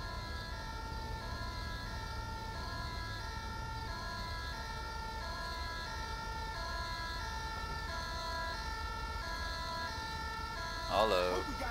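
Ambulance siren in GTA 5, a continuous wailing tone holding steady for the whole stretch over a low engine rumble, with a brief louder burst near the end.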